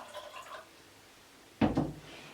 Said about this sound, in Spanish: vamos a colocar en un vaso de precipitados un poco de agua